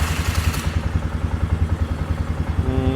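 A four-wheeler ATV engine runs steadily with a rhythmic, throbbing mid-range chug and some mechanical clatter, close and fairly loud, with no speech.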